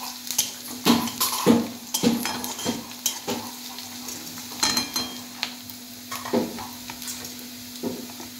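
Chopped onion and green chillies sizzle in hot oil while a spoon stirs them, producing a soft continuous fry with repeated close scraping and tapping strokes against the pan.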